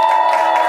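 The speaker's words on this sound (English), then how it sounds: "cheer now if you think the Child Prodigies won" Live audience at a school improv theater-sports show cheering for a team, a brief, dense burst of crowd shouts and whoops all at once.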